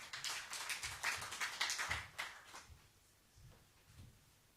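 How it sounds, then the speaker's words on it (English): Audience applause at a formal government event where Statistics South Africa hands over Census 2022 results. Moderate, fairly distant clapping with irregular taps fills the first two seconds, then thins out into sparse claps. "When I got a clap of hands before I came to the podium"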